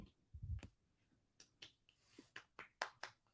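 A young child claps their hands in a loose, irregular run of sharp claps, close and fairly quiet, with a short rustle before them.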